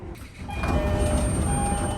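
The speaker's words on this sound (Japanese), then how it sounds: "列車は新松戸駅に到着。" A JR train pulls into Shin-Matsudo station, a low rumbling hum of the railcar with a steady tonal whine from the motors as it slows, heard from inside the carriage.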